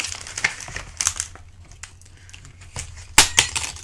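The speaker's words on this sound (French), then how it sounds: "Donc je découpe tout ça" Paper being cut with a craft punch, heard as a series of sharp, close crinkling snaps and clicks at irregular intervals, with a louder crisp punch near the end.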